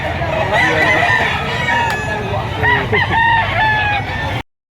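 Chickens cluck and a rooster crows loudly nearby at a poultry market in Lipa, Batangas, layered over a busy background of murmuring voices before cutting off abruptly.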